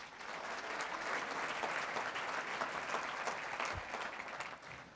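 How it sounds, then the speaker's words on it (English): An audience applauds the house staff at a State of the City 2020 address, a dense, steady wash of many hands clapping that holds at full strength before easing off at the end. "Give them a big round of applause"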